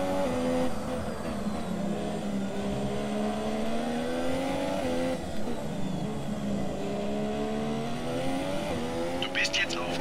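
A Formula 1 car in F1 2017 on supersoft tyres, its high-pitched engine whining steadily through gear changes as it laps, close and continuous, with a brief squeal near the end.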